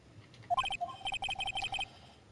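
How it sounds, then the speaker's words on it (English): A phone ringtone in the Phoenix Wright: Justice For All video game, a bright electronic melody of short beeping notes repeated in quick phrases, clear and alone over a faint hum. "I bet it was this ringtone that caused it."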